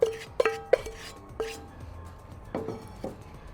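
Mushrooms dropped one after another into a cast iron skillet, giving several sharp clinks and taps in a quick cluster, then a few more lighter knocks after a pause, close and fairly quiet.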